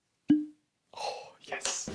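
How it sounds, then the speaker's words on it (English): A cork pops from a bottle of Ardbeg Uigeadail whisky, one short, hollow plop alone in silence, followed by a breathy, whispery voice. "So I'm gonna have some of this, or listen to the cork."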